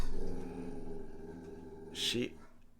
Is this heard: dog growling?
yes